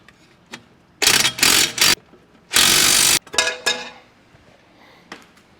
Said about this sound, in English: we'll hit our impact on the bottom